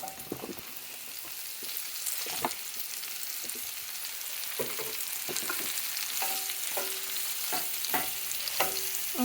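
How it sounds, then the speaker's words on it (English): Mushrooms frying in hot oil in a pan alongside chicken and shrimp for fajitas, giving a soft continuous sizzle with scattered light clicks and pops from stirring, fairly quiet and close. "what I'm going to do is throw in these mushrooms"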